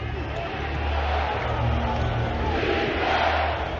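Basketball arena crowd at a Clippers vs Nuggets playoff game, a steady loud roar of cheering and yelling that fills the space, with a commentator talking over it.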